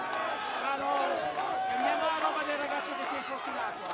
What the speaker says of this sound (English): we can just hear the crowd erupting